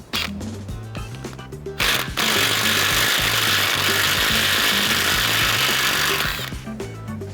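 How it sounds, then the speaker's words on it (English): Power tool with a 13mm socket removing the half shaft bolts on a Ford F-150, a loud, steady whirring buzz lasting several seconds after a short stuttering burst. "you're going to be using a 13mm socket to take the half shaft off"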